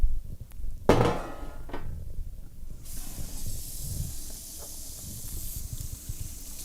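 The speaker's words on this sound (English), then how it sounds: "You always want to rinse your meat off." Water running from a kitchen tap as thick pork chops are rinsed, a steady hiss of flowing water with a few clunks and knocks of handling near the start.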